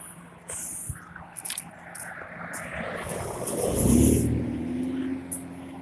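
A car approaches and sweeps past, its tire and engine noise swelling to a peak then fading, with a few faint clicks and rustles nearby.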